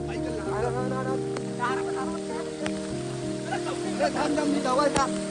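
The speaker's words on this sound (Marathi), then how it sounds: "फुल जोरात पाऊस पडतोय हे बघा आपण सगळे जण भिजलोय" Heavy rain pours down outdoors at a riverside cooking party during a flood, a constant close wash of sound beneath people talking and a steady tonal hum.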